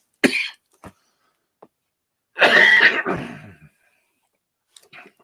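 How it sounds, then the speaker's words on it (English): A person coughs in short bursts: a couple of quick coughs, then a longer, harsher fit of coughing, close to the listener, separated by brief silences. "This is when I decide to get that cough."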